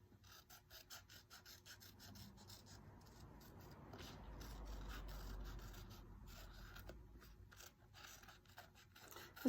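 Regular scissors snip steadily through pattern paper for a stained-glass repair, a close, quiet run of rapid rhythmic cuts and rustling with no talking.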